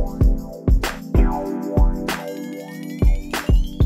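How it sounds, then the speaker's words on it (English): A flexitone-style wobbling pitched sound with delay rides over a West Coast hip hop beat, heard alongside punchy kicks and snares in a steady groove with a rising tonal sweep. "Another thing I've just thought of is a flexitone sound."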